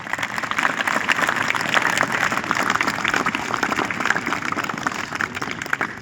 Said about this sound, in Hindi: उन बच्चों के लिए आप जोरदार तालियां बजाएं।